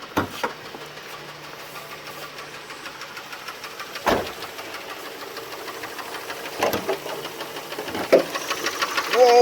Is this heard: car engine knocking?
yes